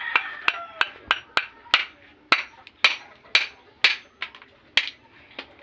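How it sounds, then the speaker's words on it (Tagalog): A hammer pounds seafood shells in a series of about fifteen sharp, close knocks at an uneven pace, each a crisp crack that fades quickly. "Popokin namin na martilyo."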